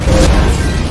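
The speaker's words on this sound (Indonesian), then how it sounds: "artileri meledak tepat di hadapannya" An artillery shell explodes in a war film set in World War II, a single loud, deep boom with a heavy low-end rumble that fills the brief moment.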